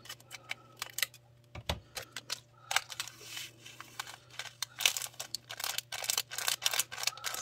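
Tiny diamond painting drills are poured into small bags, giving bursts of dense, crisp rattling and clicking at close range, with short pauses between pours and no talking.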